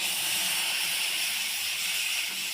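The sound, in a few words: water poured into a hot wok (kadai) on the gas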